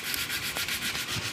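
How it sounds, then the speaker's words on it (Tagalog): Steady back-and-forth scraping of sandpaper rubbing a hard surface, likely a scooter clutch part being sanded before fitting the clutch bell, repeated in quick even strokes, close up with no talking. "So pagkatapos nating lihain to"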